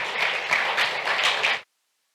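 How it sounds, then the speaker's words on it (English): A conference audience gives a short burst of applause at a renewable energy financing event, brisk clapping that cuts off abruptly after about a second and a half. "Let's have a round of applause for ourselves."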